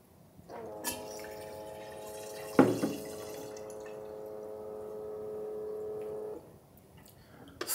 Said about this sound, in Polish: Dolewamy wody do komory.